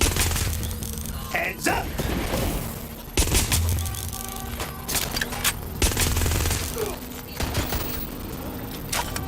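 Bursts of automatic gunfire and sharp shots fill a Watch Dogs: Legion firefight, loud and close with heavy booms, while a voice shouts over the shooting.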